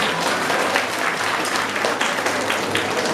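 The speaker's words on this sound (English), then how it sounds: "a loud round of applause." Loud, steady round of audience applause at a school Independence Day celebration, continuous dense clapping from a crowd throughout the short stretch.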